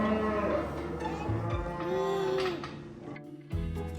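Several cows moo in a cowshed in France, long low calls overlapping, with some clattering and shuffling in between.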